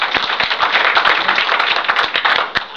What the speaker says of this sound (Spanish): el aplauso que corresponde